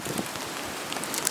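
Ice pellets and snow fall in a windy winter storm in New Jersey, a steady fine patter of granules striking surfaces close by, with a few sharper ticks and no voices.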